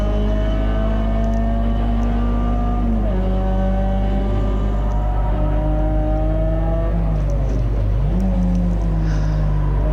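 Peugeot 206 GTi 180 race car in a CSCC Tin Tops race at Silverstone, engine loud and close from inside the cockpit, revs climbing steadily, briefly dropping at a gear change and rising again, dipping once more near the end.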